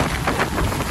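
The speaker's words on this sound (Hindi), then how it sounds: "क्योंकि बारिश के मज़े दिखा रहा हूँ आपको" Steady rain falls during a drive through fields, a dense, even hiss of drops that fills the whole short moment without a break.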